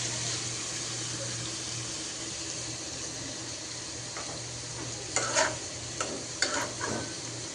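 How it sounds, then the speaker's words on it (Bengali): Onions frying in hot oil in a pan give a steady, close sizzle throughout, with a few light stirring clicks and scrapes near the end. "তো এই পেঁয়াজটা এখন একটু ভেজে নিব।"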